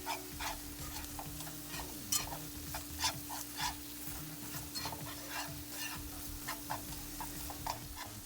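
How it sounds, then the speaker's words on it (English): Flour, oil and vegetables being stirred in a hot pan for cornbread dressing, repeated scraping strokes of a utensil over a low sizzle and a faint steady hum, quiet and close, with no speech. "now that you have mixed the flour and the oil and the vegetables while the fire is still on"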